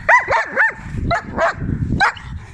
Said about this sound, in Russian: Четыре овчарки у нас.